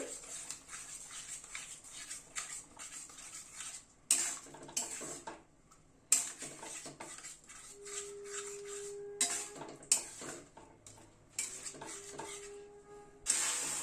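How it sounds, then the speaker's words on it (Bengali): Yogurt is stirred into curry masala in a pan over a low flame, with intermittent clinks and scrapes of a spoon against metal and a faint sizzle, fairly quiet with pauses between strokes. "গ্যাসের ফ্লেমটাকে একদম কম করে দিয়ে দইটা দিয়ে একটু নাড়তে হবে"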